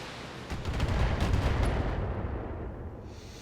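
Mech weapons fire in the BattleTech video game, a loud booming barrage with a heavy low rumble that swells, holds and then slowly fades.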